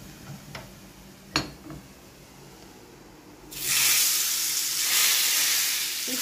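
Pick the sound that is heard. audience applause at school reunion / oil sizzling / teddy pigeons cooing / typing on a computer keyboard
oil sizzling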